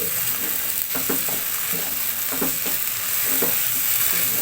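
Raw jackfruit pieces coated in spices are stirred in a hot pan, producing a steady sizzle punctuated by a rhythmic series of scraping, shuffling strokes close by.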